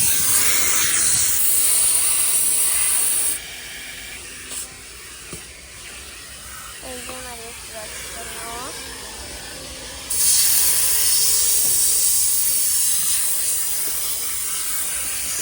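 A car vacuum cleaner runs with a loud, steady hiss that drops to a quieter hum for several seconds while scraping and rustling sounds come through, then surges back to full loudness.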